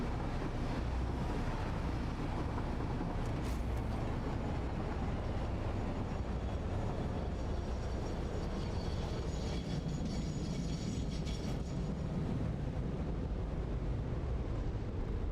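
A train runs in the factory-building video game Satisfactory, with a steady, dense rumbling roar that holds for the whole span at an even loudness and no talk.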